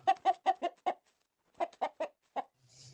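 A rooster clucks in two bursts of short, throaty calls, five quick clucks followed by a pause and then four more, close and clear, with a faint low rumble and a high hiss at the very end.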